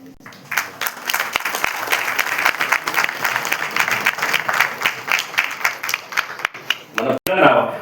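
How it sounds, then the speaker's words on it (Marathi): A crowd at a poetry book launch ceremony in Pimpri Chinchwad claps loudly and continuously for several seconds, a thick roar of hands with a few voices mixed in, ending in a brief break and a final burst. "एकदा जोरदार टाळ्या"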